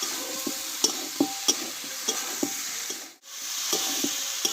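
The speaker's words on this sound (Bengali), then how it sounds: "আরও আমি দু মিনিট মতো মশলার সঙ্গে এই এঁচড়টা ভালোভাবে কষিয়ে নেবো" Raw jackfruit pieces sauté with spices in a pan, a steady sizzle punctuated by regular sharp taps of a spatula, with a brief dip in the sound midway.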